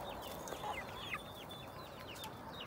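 Chickens and many young roosters from a Denizli flock cluck and chirp in a coop, a busy overlapping chatter of calls at moderate distance.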